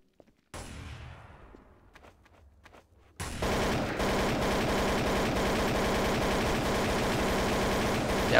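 Rapid automatic gunfire from Counter-Strike: Source erupts after a shot and trailing echo, then rattles on loud and unbroken for several seconds.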